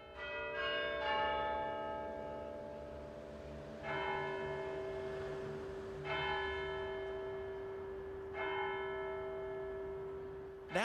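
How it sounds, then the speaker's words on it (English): A church bell in Cambridge tolls slowly, four or five strikes spaced a couple of seconds apart, each ringing out and fading into a long hum, as the chimes that strike every 15 minutes. "the chimes, which strike every 15 minutes"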